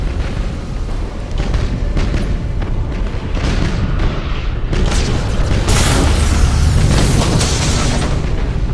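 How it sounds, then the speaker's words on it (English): A disruption bomb explosion in the video game Battlefleet Gothic Armada: a heavy, rumbling blast roars on continuously, with bursts and crackling debris layered over dense low booms, loud and close. "Disruption bomb."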